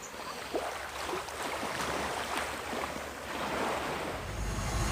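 Steady surf washing onto Adam and Eve Beach in the Perhentian Islands, a continuous broad rush of waves with wind buffeting the microphone, with no one speaking.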